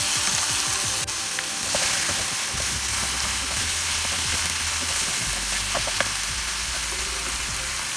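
Chopped tomato with ginger, garlic and green chili paste frying in a pan over golden-brown onions, a steady loud sizzle with occasional stirring clinks and scrapes throughout.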